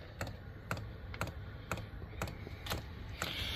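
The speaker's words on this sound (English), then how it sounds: "Which a lot of people talk about that click, clicking noise" A diesel heater ticks out a series of sharp, evenly spaced clicks roughly every half second, quiet and close, against a low background hum during hot weather in Tennessee.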